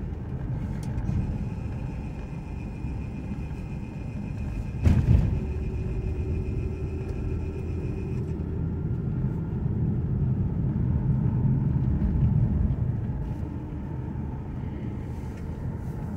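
Car driving through town in Gatlinburg, Tennessee, a steady low engine and road rumble from inside the vehicle throughout, with a brief louder thump partway through.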